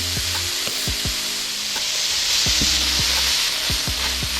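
An egg fries in a pan with turmeric and curry powder, a loud continuous sizzle broken by repeated scraping and stirring knocks from a utensil, no voices.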